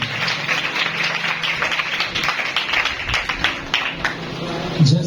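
A church congregation at a Sunday service claps loudly and steadily, a dense patter of many hands that keeps going throughout.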